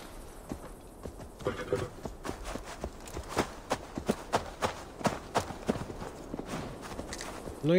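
Steady clip-clop of horse hooves at a trotting rhythm in Assassin's Creed Valhalla, close and fairly loud, with faint background ambience and no talking.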